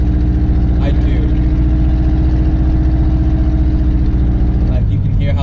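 A 1965 Pontiac Catalina's engine rumbles loudly and steadily at close range beside a roadside barrier, its deep low throb reflecting off the wall, with a brief rev near the end.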